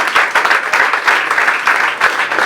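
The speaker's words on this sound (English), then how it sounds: "Please, let's give him a round of applause." Audience at a fashion academy induction ceremony breaks into a dense round of applause, many hands clapping loudly and close for the whole stretch with no talk over it.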